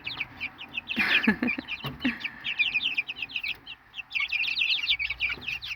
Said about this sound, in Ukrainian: Не знаю, скільки півників, скільки курочок